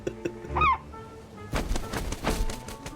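A video game bird lets out a short, rising squawk early on, followed by a burst of noisy rushing game sounds.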